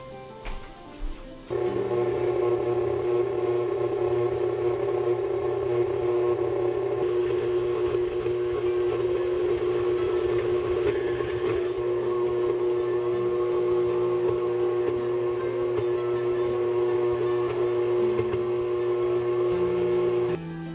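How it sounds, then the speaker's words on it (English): An electric mixer creams butter, sugar and cream cheese for a pound cake. After a brief clatter it starts up and runs as a loud, steady whine that holds unbroken for about twenty seconds. "now we're going to cream those together"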